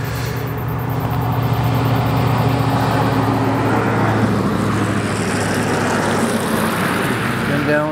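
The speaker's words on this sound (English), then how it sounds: "Sorry for the traffic noise." Road traffic passes nearby at a rural farm roadside near the evening rush, a constant loud rumble and hiss of vehicles that never lets up across the whole stretch.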